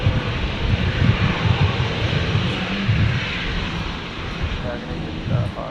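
A passenger plane taking off at Brisbane airport, its broad engine roar steady and moderately distant, with low rumble throughout and faint voices underneath.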